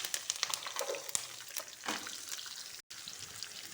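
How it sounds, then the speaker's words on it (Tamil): Onions sizzle and crackle in a hot pan, with soft stirring scrapes and a brief cut near the end; moderately quiet and close. "இந்த மாதிரி வெங்காயம் நல்லா வதங்கணுங்க."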